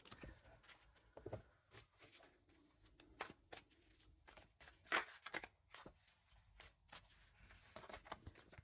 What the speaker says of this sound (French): Je mélange bien les cartes.